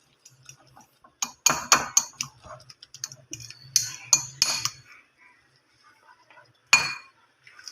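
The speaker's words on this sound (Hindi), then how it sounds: "अब इसको हमने अच्छे से मिक्स कर लेना है" Egg mixture for a chicken egg paratha is beaten in a bowl, heard as bursts of clinking and tapping utensil strokes against the bowl in uneven clusters, with quiet pauses between them and a last sharp clink.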